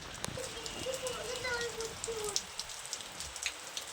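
Steady rain patters across the whole clip, a soft hiss with scattered drops, while a faint tonal sound drifts in briefly near the start.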